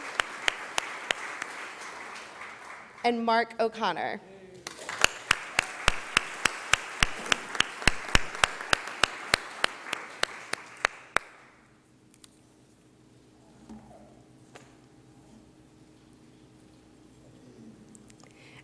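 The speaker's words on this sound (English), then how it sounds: "We'll give her a round of applause." Applause from the audience at a mayor's press conference, a steady round of clapping with crisp, individually distinct claps rising and then fading out. A short spoken phrase cuts in near the start.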